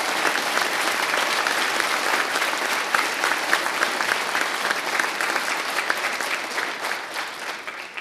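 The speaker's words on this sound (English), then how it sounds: "can everyone give a round of applause for the instructors of HRRFA Class 9?" Sustained, dense applause from a graduation audience honoring the instructors of HRRFA Class 9, a steady wash of clapping that fills the whole stretch with no voices over it.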